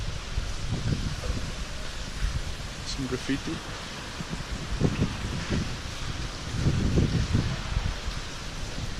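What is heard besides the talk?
strong wind blowing on the GoPro microphone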